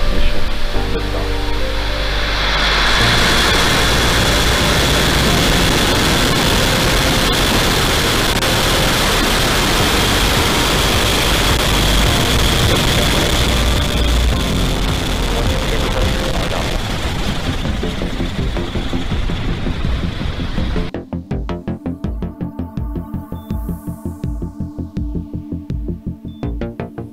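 Falcon 9 rocket engines ignite and lift off with a huge, loud, continuous roar that rumbles and crackles, then settles into a throbbing, pulsing drone as the rocket climbs away.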